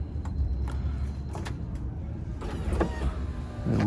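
A car's power window motor whirs as the window runs, worked by turning the key in the door lock. The steady mechanical drone is close and sits over low engine-like rumble, with some creaks and clicks near the end.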